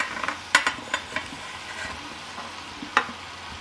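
Sliced tomatoes added to a pan of cooked onions, sizzling steadily close up, with a few sharp clacks of the tomatoes and utensil hitting the pan.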